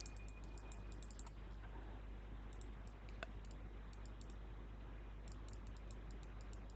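Rapid, light mouse clicks tapping in irregular bursts close to the microphone over a quiet room hum, with a few sharper isolated clicks.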